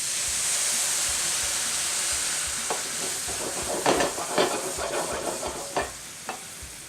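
Cabernet Sauvignon wine poured into a pan of sizzling garlic, a steady hiss that swells into bursts of louder bubbling spatter, with no talking.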